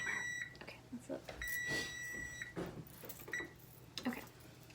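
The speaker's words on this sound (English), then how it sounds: "There's my timer." A kitchen timer beeps beside a Hamilton Beach sandwich toaster, sounding several short bursts of high beeps at close range, with someone talking over and between them.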